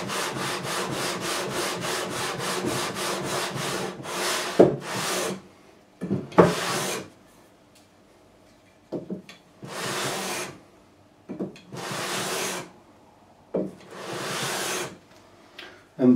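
Hand filing and sanding on a guitar's fret ends and binding during a re-fret of a GJA electro-acoustic: a fast run of short rasping strokes, then slower separate scraping passes with pauses between, close and clear with no talking.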